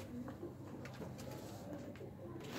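Pet pigeons kept by a hobbyist coo softly and continuously, a low murmuring drone of several birds under steady background noise, with no speech.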